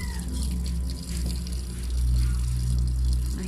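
A weak trickle of water fills an LG top-load washing machine, a steady low rushing and splashing that swells slightly partway through, heard alone without talk.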